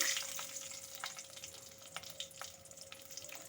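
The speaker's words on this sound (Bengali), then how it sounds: "আমি ওই তেলের মধ্যে কালো জিরে আর শুকনো লঙ্কা দুটো ফোড়ন করে নিচ্ছি" Nigella seeds and two dried chillies temper in leftover fish oil, giving a steady close sizzle with scattered sharp pops and spits throughout, no voices.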